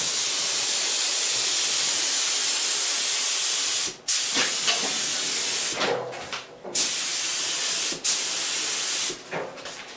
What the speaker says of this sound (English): But for this job, we're going to use a spray lacquer.